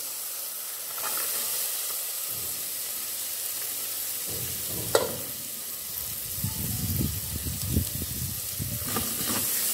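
Carrots sizzle in a hot pan for Greek rice with garlic, a steady frying hiss that swells as they are stirred, with soft scraping and clatter of the spoon near the end; no voices.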